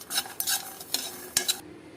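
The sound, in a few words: stirring sesame seeds in a hot pan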